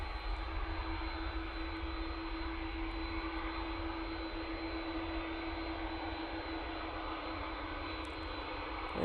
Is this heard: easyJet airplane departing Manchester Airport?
yes